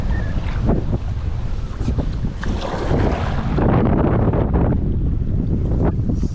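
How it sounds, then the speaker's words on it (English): Strong wind blows on a lake, buffeting the microphone with a loud, steady rush and low rumble that goes on without a break, alongside watery noise from a small boat. "Wind just stops me right in my track."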